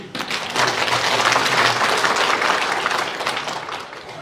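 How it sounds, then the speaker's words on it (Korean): A church congregation at a Sunday service gives the choir a full, steady round of applause, dense and loud throughout, with no talking over it. "할렐루야 찬양대에서 다시 한번 박수를."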